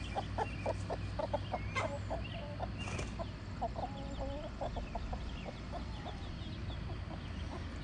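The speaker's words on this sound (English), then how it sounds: "This is a hen." A hen clucks in short, repeated bursts with a few louder squawks, fairly close, over steady low background noise.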